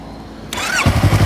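A 2024 Yamaha MT-03 motorcycle engine cranks briefly, then fires up and settles into a loud, throbbing idle close by.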